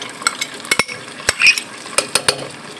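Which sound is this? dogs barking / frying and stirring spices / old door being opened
frying and stirring spices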